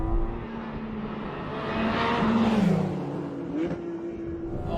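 A Porsche engine revs hard while driving, its rising and falling drone loud and continuous close by throughout, with a brief surge in pitch midway.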